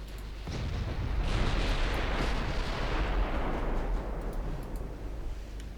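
Warship naval guns in Ultimate Admiral Dreadnoughts boom in a heavy, rumbling barrage that swells and lingers as a dense roar, with a few sharper reports near the end.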